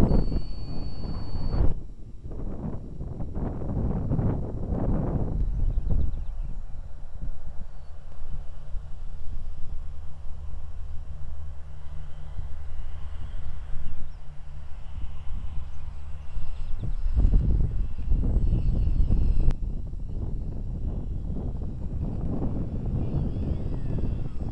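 Gusty wind buffets the microphone in loud bursts outdoors, easing to a quieter stretch midway, with a faint small electric motor from an Eflite UMX Carbon Cub SS model plane flying in an 8-16 mph wind.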